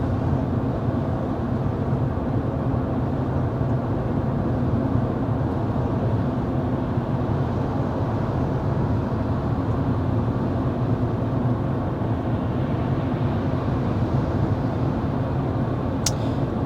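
Steady broadband road and tyre rumble inside the cabin of a 2023 Ford Maverick small pickup cruising at 55 mph, a constant low drone with no voices and no change across the stretch.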